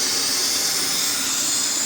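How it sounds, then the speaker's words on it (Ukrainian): Steam hisses steadily from a smokehouse smoking pork belly at around 70 degrees, a continuous, loud, close broadband rush with no talking. "і йде пара"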